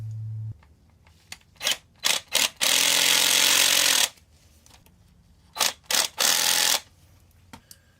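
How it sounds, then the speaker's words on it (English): Power drill tightening a fitting on a DIY air column separator, several short whirring bursts followed by one long sustained run of about a second and a half, then more quick bursts, close and loud with quiet gaps between. "Just going to tighten this up here using my drill."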